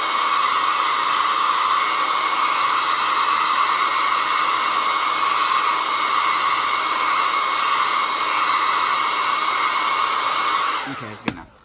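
A hair dryer blows steadily and loudly at close range while drying a distressed, hand-sewn journal signature, a constant whooshing roar that cuts off abruptly near the end.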